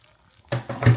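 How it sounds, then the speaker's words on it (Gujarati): Water poured into a pan of eggplant and potato curry, a short splashing pour that begins halfway through and swells in two brief surges, close and fairly loud. "પણ ફાઇનલી થોડુંક પાણી નાખવું પડશે. તમે થોડુંક નાખી દીધું,"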